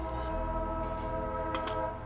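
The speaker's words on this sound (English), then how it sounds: "And there's the train for you." A train passes at some distance, a low steady rumble with sustained tonal hum and a couple of brief sharp bursts near the end, fairly quiet and alone without talk.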